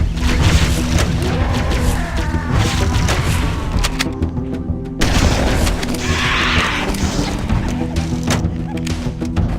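Rocket explosions boom in Halo: Combat Evolved amid dense gunfire and game noise, several heavy blasts and thuds in quick succession, loud and close, with a voice talking briefly over the chaos.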